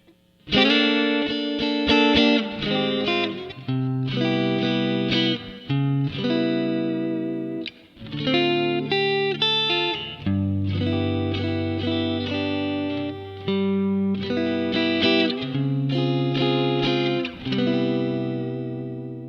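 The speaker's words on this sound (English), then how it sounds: "let's try something a little jazzy and see if the Jazzmaster can actually deliver" A Fender Jazzmaster electric guitar plays a jazzy lick through effects with distortion and chorus, a continuous run of chords and single notes, loud and close, with no talking.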